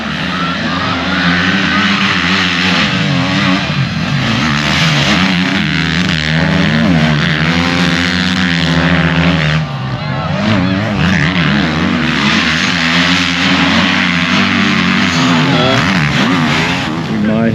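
Loud motorcycle engines roar and rev continuously as bikes race past at the Spoke Motorcycle Festival, the pitch rising and falling as they accelerate.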